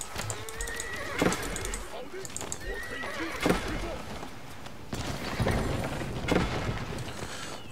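Cavalry horses in the Age of Empires IV strategy game neigh and whinny repeatedly, with clip-clopping hooves and battle noise in a dense, busy mix, while someone talks over the action.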